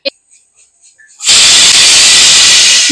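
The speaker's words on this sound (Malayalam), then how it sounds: "ഇപ്പോൾ രണ്ട് വിസിൽ വന്നു കഴിഞ്ഞു നമ്മൾ ഈ കുക്കർ ഓഫ് ചെയ്തു" A pressure cooker cooking mushroom biryani lets out a sudden loud, sustained steam whistle that starts partway through and hisses on steadily, close up, after a few faint taps.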